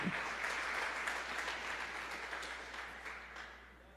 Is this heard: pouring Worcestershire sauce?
no